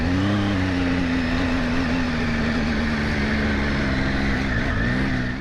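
Triumph Tiger 800 motorcycle engine holds a loud, close, sustained roar under acceleration, with a steady strong pitch and a slight wobble near the end.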